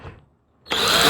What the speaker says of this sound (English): I'll just drill a hole bigger afterwards.